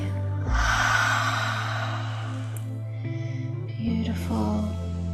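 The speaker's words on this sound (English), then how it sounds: "Inhale and exhale." Deep breathwork inhales and exhales: a sharp, loud inhale, then long held breaths and slower airy exhales close to the microphone, over a low steady hum.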